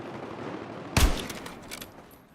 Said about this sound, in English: Somebody fires a grenade round next to me and it blows. You hear the explosion happen twice.